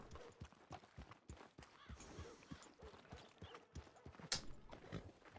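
Rhythmic clip-clop of horse hooves on a hard surface in Red Dead Redemption 2, steady walking beats with a brief bright clink partway through.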